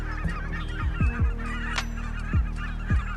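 Canada geese honk repeatedly in short, loud, nasal calls, several in quick succession with brief pauses, over a steady low background hum.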